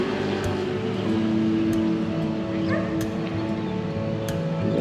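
Street dogs in Thailand bark and yip in scattered sharp bursts, fairly close, over a loud steady hum of engines and traffic, with no clear talk.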